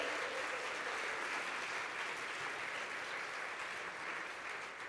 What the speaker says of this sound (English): Round of applause for all the nominees.